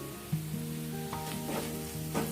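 Chilli powder, turmeric, garam masala and coriander powder sizzle steadily in a pan for pulao gravy, a loud continuous frying hiss with a few scraping stirs.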